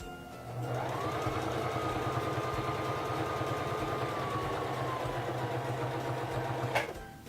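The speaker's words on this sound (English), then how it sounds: "Bring down your presser foot and begin sewing." A Singer Fashion Mate 3333 free-arm sewing machine runs steadily for several seconds, its close, even mechanical whir and rapid needle chatter ending abruptly with a short clunk as it stops.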